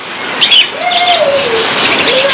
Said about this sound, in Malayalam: ഇവിടെ ഒരുപാട് കിളികളുണ്ട്